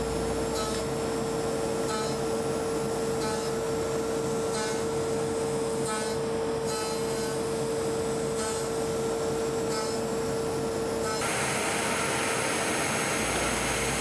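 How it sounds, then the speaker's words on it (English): A machine tool rough-cutting CFOAM carbon foam blocks for aerospace composite tooling gives a steady, loud whirring hiss with a constant tone, its texture changing in regular repeating pulses as the cutter crosses the thin bonded joints. "The change in sound you hear are the thin joints being machined, and it does not affect cutting speed."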